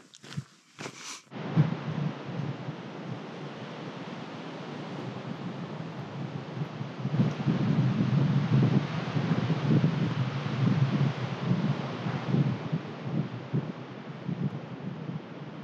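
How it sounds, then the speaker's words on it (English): Steady wind roars across the microphone in strong, rumbling gusts that grow louder partway through, after a brief knock at the start, on a wooded trail among dead trees. "So it's getting windy"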